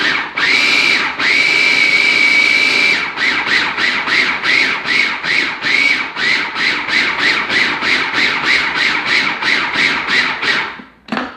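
Kitchen blender pulsing a snack mixture: a steady whirring run, then a long series of short rapid bursts starting and stopping in a regular rhythm, loud and close, with no talk.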